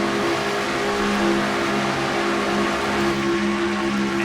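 From onboard the MBNA Pontiac stock car in a Charlotte race of a racing game, the engine drones steadily at high revs, a loud, constant, near sound with no voices.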